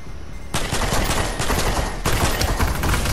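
Heavy gunfire in a video game comes in two sustained bursts of rapid automatic shots, loud, close and rattling, with a brief quieter gap before the first burst.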